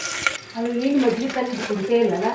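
Cumin, mustard seeds, curry leaves, cinnamon and onion frying in hot oil, a close steady sizzle with a burst as they go in, while a voice talks over it.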